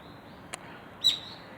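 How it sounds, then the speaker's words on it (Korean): Birds sing around a wooded hillside on a clear, cold day, two brief high chirps, one faint and one a bit louder, over a quiet background. "맑고 새소리도 이래 평화로워요"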